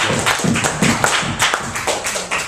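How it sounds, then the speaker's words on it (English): Audience applause from a gathered group, a short burst of scattered clapping at moderate loudness, fairly thin and uneven rather than a full roaring ovation. "I think a round of applause for the YouTube."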